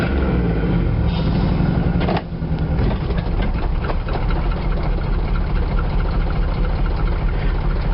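A GMC K5 truck idles nearby, its engine putting out a loud, steady low rumble with a brief dip partway through and no speech over it.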